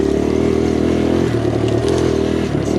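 A 2023 Kawasaki KLX140RF dirt bike is ridden flat out on trails, its engine buzzing loud and steady close by with rough, varying revs and some clatter from the ride.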